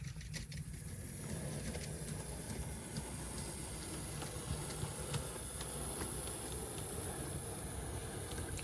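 A model railway locomotive with sound playing runs past, giving a faint steady mechanical hum and hiss with light rhythmic clicking throughout.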